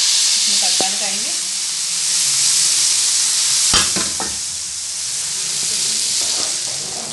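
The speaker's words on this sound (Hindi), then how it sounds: "आप इस तरीके से करके इसमें तड़का लगाएंगे।" Red chilli and cumin tadka sizzling in hot oil for chicken haleem, a steady close frying hiss with a louder crackling burst partway through as the spices hit.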